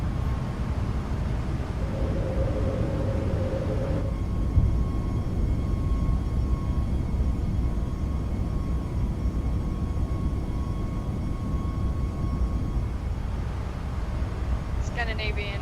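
Steady, loud engine roar of an iFly 737 MAX 8 jet climbing out after takeoff in MSFS 2020, a constant broadband drone with faint tonal whine, a brief chime near the start and a radio call near the end.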